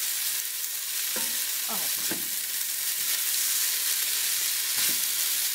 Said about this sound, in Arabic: هنزل الخضار ده كده مع بعضه، انا مش عايزه بقى الخضار يستوي ولا حاجه